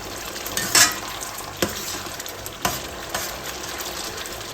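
Butter sizzles and fries gently in a pan on medium heat, a steady crackle broken by a few sharp spatters and stirring clicks, with no voices.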